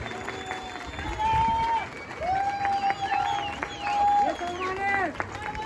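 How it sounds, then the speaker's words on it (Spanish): Crowd applause and cheering at a 5K running race awards ceremony, honoring the junior men's podium, with steady clapping under a loud announcer talking over a PA throughout. "El aplauso para nuestro podium de los tres primeros lugares de esta categoría juvenil varonil."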